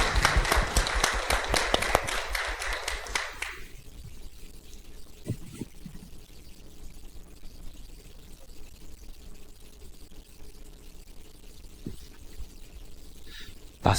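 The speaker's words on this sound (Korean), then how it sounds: "박수 한번 주세요." An audience claps together at a live drawing art performance, a burst of steady rhythmic applause for a few seconds that then cuts off into quiet room noise with a few faint knocks.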